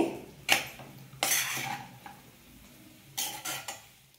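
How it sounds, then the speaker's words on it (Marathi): A utensil stirs vegetables into cooked rice for veg fried rice in a pan, giving a few distinct clanks and scrapes spread out over a quiet background, with no talk. "आता आपल्याला या भाज्या टाकून घ्यायच्या आहेत आणि एकजीव करून घ्यायचे पूर्ण भात आपल्याला"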